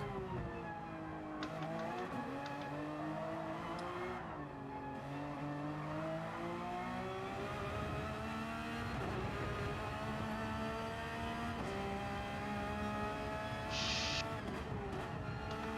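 A race car engine in Gran Turismo 7 climbs in pitch and drops repeatedly through a series of upshifts, loud and steady throughout the run, with no talk.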